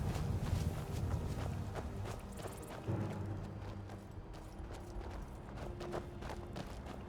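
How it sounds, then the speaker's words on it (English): Footsteps in the video game Skyrim, a series of soft, steady steps running through a busy game soundscape of ambient hum and low rumbles, moderately close and unbroken for several seconds. "I thought I heard footsteps."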